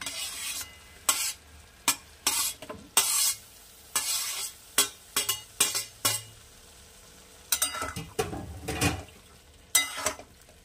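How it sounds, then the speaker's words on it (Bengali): Fried potatoes and brinjal tossed into a pan of bathua greens, with repeated sharp spatula scrapes and knocks against the pan over a low steady sizzle, close and loud, with no talking. "এইবারে দিয়ে দেবো ভেজে রাখা আলু আর বেগুনটা।"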